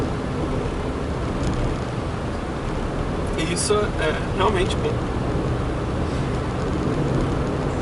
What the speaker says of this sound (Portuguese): você consegue escutar um pouco até do escapamento passando aqui por baixo